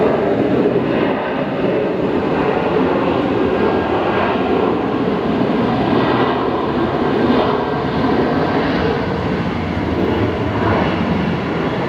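A Jetstar airliner arriving from Canberra lands on runway 01 right at Brisbane Airport, a loud, continuous broadband engine roar with rumbling low end that holds steady throughout.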